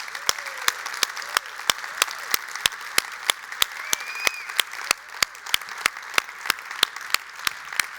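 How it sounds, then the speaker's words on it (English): A conference crowd claps at the closing remarks of Optimal Las Vegas 2022. Sharp, evenly spaced claps land about three times a second in a steady unison beat over a low murmur of the room. "One more time, give yourselves a huge round of applause."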